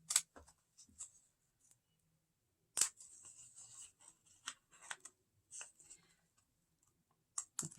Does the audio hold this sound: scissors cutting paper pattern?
yes